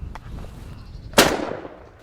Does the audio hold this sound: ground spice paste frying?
no